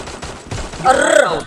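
Gunfire in the battle-royale shooter Free Fire: a burst of rapid shots rings out under a voice calling out during play, louder toward the end.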